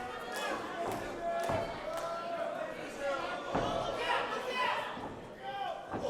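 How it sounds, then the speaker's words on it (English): A wrestler is knocked down by a big tackle at a Phoenix Pro Wrestling show: a few sharp, heavy thuds land amid continuous crowd noise in an indoor venue. "he knocks him down with a big tackle"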